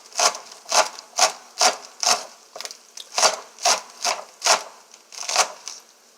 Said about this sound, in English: So I'm going to cut my scallions now.